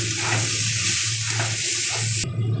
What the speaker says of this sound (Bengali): একটু ভাজা ভাজা করে নিব এইভাবে।